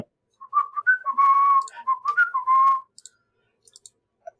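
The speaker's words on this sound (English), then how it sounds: "that whistling's probably really loud" A person whistles a short, wavering melody alone in a quiet room, with a few faint clicks afterward.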